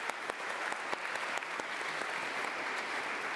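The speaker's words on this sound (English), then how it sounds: "that deserves a round of applause" Audience round of applause at the Co-op Congress 2025, a dense run of clapping with a few sharper individual claps standing out near the front.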